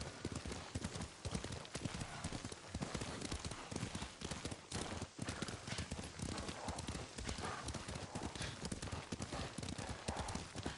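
Rapid, continuous hoofbeats of galloping horses in the video game Ghost of Tsushima, loud and dense, with voices talking over the pounding rhythm.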